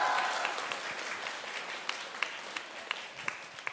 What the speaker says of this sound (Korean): 여러분들 이런 걸로 박수 쳐주셔서 고마워요